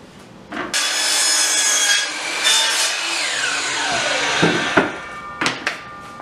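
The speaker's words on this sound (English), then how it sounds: "we're going to cut this with the miter saw" A miter saw spins up and cuts through wood at an angle, a loud, steady whine with the pitch bending as the blade passes through the board, then winding down with a few clunks.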